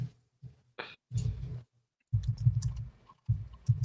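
Clicky computer keyboard keys typed in short bursts, with quiet pauses between flurries of close, crisp taps.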